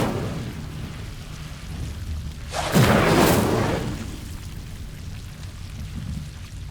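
An Incendio fire spell cast in Hogwarts Legacy, a single sudden whooshing burst of flame that flares loudly for about a second and then fades back into quiet ambient game sound.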